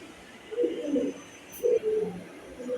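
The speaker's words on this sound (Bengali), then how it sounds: "এটা হচ্ছে বেজি সিলভার কবুতর।" Silver pigeons kept as a breeding pair coo in soft, low, rolling bursts, two main phrases close by, with a quiet background between them.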